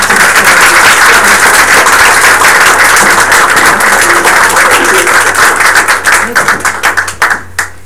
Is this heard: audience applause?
yes